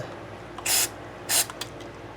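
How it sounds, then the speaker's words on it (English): Two short hissing bursts of electronics spray cleaner sprayed into an Aria Pro II RS Wild Cat guitar, then a brief third puff, close by over a low background hum. "I'm just going to take a little electronic spray cleaner"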